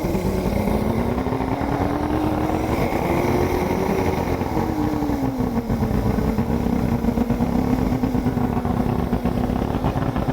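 A bass boat outboard motor running steadily at a constant pitch throughout while oil is injected into it to winterize it, a continuous loud drone with no talking.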